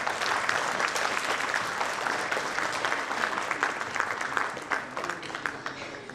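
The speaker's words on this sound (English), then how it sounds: "A huge round of applause, please, ladies and gentlemen." A large audience applauds at AIMA's 60th Foundation Day event after a memento presentation, a thick, sustained roar of clapping that stays strong and eases slightly toward the end.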